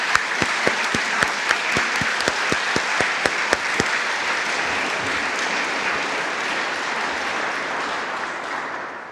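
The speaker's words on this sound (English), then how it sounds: "join me in a round of applause" Applause rolls through an audience at an Iowa State University event: loud, sustained clapping with sharp close claps standing out early on, gradually thinning toward the end.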